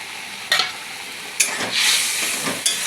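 Mustard paste and eggplant sizzle in a frying pan, a continuous hiss broken by several sharp stirring scrapes and louder bursts of spatter, close by with no voices.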